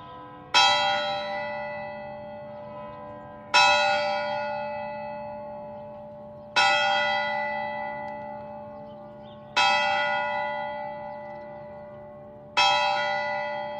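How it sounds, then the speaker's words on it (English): A single church curfew bell in a Tudor-era town tolls five times at slow, even intervals, each strike ringing out and fading before the next, with no talking. "By 8 p.m., the curfew bell is ringing, signaling an end to the day's activities"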